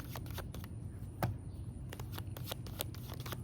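Tarot cards being shuffled close up, a run of crisp rapid riffles and snaps in quick irregular bursts against a low background hum.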